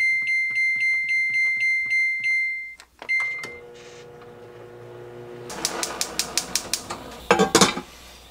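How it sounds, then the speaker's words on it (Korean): Rapid mechanical clicks and beeps as a microwave oven is set for 10 minutes to cook sweet sticky rice with water in a pot, followed by a steady hum as it runs and a few clattering knocks. "그리고 전자레인지에 10분 돌릴게요."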